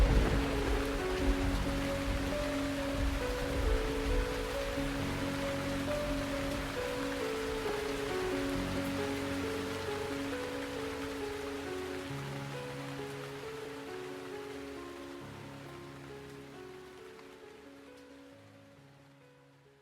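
Heavy rain pours down steadily in a dense, even hiss with no voices, slowly fading over about twenty seconds, set under a low tonal drone.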